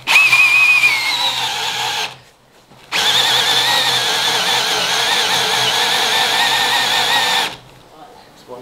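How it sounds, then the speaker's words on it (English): A power drill bores into a reclaimed wood workbench top in two loud, close, sustained whining runs, a short silent gap between them. "There's one drilled, just check it works."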